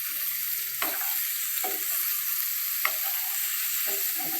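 Bitter gourd fry sizzling in a pan, stirred with a spoon that scrapes the pan in four distinct strokes over a steady hiss of frying.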